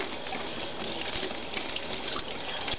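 Water running steadily from a tap to rinse salt off a whole fish, a continuous close gushing splash with small irregular spatters, no talk.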